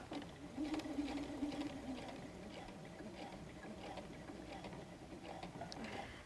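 A sewing machine stitches the fabric of a messenger bag in a quiet run of soft, rapid mechanical ticking that steadies and holds throughout.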